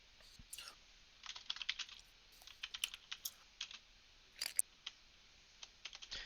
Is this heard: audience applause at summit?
no